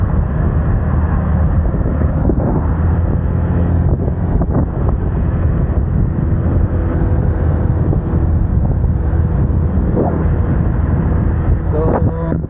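A Motorstar Easyride 150CL motorcycle on a test ride in light rain, its low engine rumble heavily masked by constant loud wind buffeting across the microphone.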